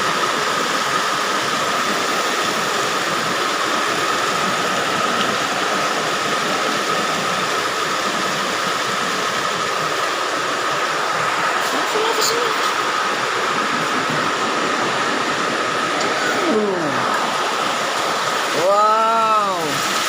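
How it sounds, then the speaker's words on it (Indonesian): Heavy rain pours down in a steady, dense roar that holds for about twenty seconds, with brief whistling or squealing tones near the end. "Ini hujan yang deras sudah nih guys."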